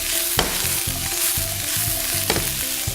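Red onions fry in olive oil in a pan, a steady loud sizzle broken by a few sharp scrapes and clatters as they are tossed and stirred, with no talking.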